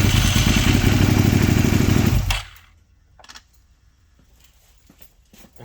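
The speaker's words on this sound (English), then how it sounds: "I put oil in the bike, and now we can try and see if it starts." A Suzuki SV650 starter cranks the engine in a loud, close, fast chattering whir for about two seconds, then stops abruptly, leaving faint clicks and clatter.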